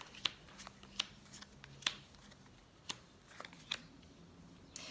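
Tarot cards are handled and laid out on a surface, producing soft, sparse clicks and slaps about a second apart, close but quiet.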